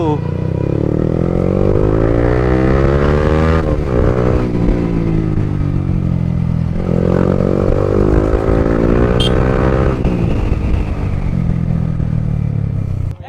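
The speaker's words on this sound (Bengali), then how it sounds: "বাইকটি রাইড করব এখন" A motorcycle engine drones steadily and loudly throughout, with two rising surges as the rider accelerates on the way to a rural fair in Tangail, Bangladesh.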